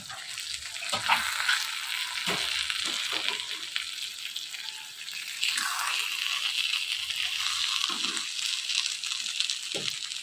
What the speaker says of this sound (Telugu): మగ్గిన వంకాయలను ఒకసారి మొత్తం ఈ విధంగా కలుపుకోవాలి